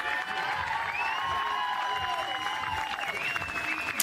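A softball crowd applauds and cheers in a sustained wash of clapping, with whistle-like shouts and voices rising above it throughout.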